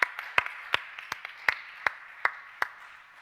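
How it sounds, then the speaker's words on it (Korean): Sharp separate claps ring out in a church during a November thanksgiving service, about a dozen spaced hits in an uneven rhythm, close and distinct against a quiet background. "감사의 박수 함께 올려드리겠습니다."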